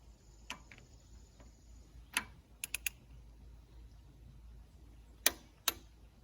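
Tool clicking while tightening a part during restoration of a Mitsubishi S370 tractor: a few sharp, isolated clicks, some in quick pairs or triplets, against a quiet background.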